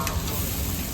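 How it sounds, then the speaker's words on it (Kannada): A loud, brief burst of tempering sizzling in hot oil, dense and close, with a low rumble underneath. "ನೋಡಿ ಒಗ್ಗರಣೆ"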